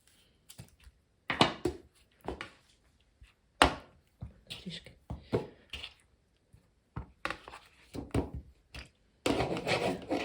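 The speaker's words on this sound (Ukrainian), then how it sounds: "Відставляємо нашу Морку і будемо натирати наші помідори" Tomatoes rubbed against a hand grater in a home kitchen for squash caviar, giving irregular bursts of rasping, scraping strokes with short pauses between, close and fairly loud, with no talking.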